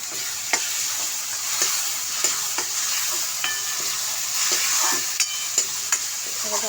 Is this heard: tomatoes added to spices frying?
yes